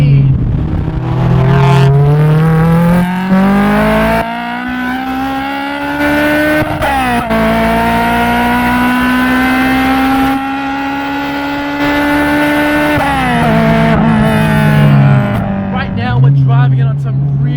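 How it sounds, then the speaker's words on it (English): Honda Civic Type R FD2R fitted with Toyota individual throttle bodies revving hard into VTEC, a loud, close engine climbing and falling through repeated rising pulls with gear changes, alone without talk. "it sounds amazing when you're on VTEC. You hear those trumpets go and it sounds insane."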